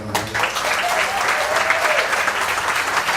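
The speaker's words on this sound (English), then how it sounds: "Can we have a round of applause for Neil?" A room full of people claps steadily, a dense, continuous burst of applause that holds strong throughout.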